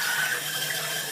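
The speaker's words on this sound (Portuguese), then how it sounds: "O barulho da água sendo sugada?" Bathwater draining after a bath, a steady close gurgling rush of water being sucked down the drain, brief and continuous with no voices.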